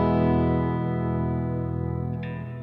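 A sustained electric guitar lead note rings out with digital delay and reverb, holding steady and slowly decaying, with a brief pick or string noise near the end.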